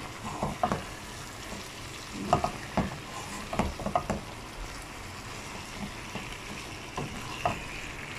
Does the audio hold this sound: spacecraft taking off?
no